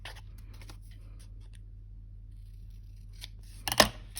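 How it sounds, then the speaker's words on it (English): Scissors trim a section off a paper pop-up card mechanism, a quiet snip or two near the end after near silence. "all I'm going to do is trim that section off"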